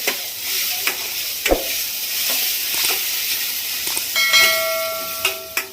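Chopped capsicum sizzling and being stirred in a hot pan for Mysore masala dosa bhaji, a steady frying hiss broken by sharp scrapes and clicks of the spatula, loud and close.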